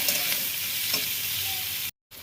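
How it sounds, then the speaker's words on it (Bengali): Chopped onion frying in oil in a wok, with a steady close-up sizzle and soft scraping from stirring, running evenly before cutting to a brief silence and resuming. "পেঁয়াজ কুচিটা দিয়ে আবার ভালোভাবে"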